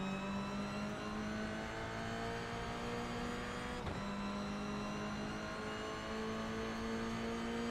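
Race cars battling in the Tin Top Cup, a steady loud engine drone with a sustained high whine throughout and a brief shift blip near the middle.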